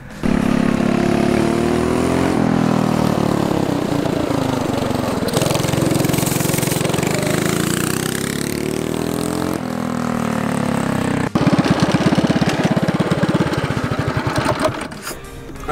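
A turbocharged drift go-kart engine runs loud and close throughout, its revs rising and falling in a sustained buzzing drone with no pauses.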